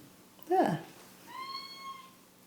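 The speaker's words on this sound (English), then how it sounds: "Oh, the cat's turned up." Near a creaky kitchen table, a cat gives a short, loud meow close by, then a second, softer and more drawn-out meow follows about a second later.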